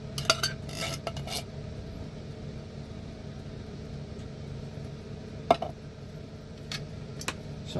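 A knife slices sausages from a tin of beans and sausages into small coins, giving sparse sharp clicks and taps against a plate or board, a brief cluster at the start and a few isolated knocks later over a low steady room hum.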